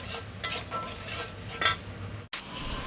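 A metal lid clanks onto a cooking pan of spiced fish curry, with two sharp metallic knocks and a clatter of utensils over a low simmer, no voices.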